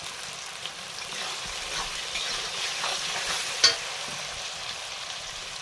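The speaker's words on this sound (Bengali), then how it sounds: "হলুদ দিয়ে কচুগুলো ভেজে নিচ্ছি আগে।" Taro pieces frying with turmeric in a pan give a steady, close sizzle with soft stirring scrapes and one sharp utensil knock partway through.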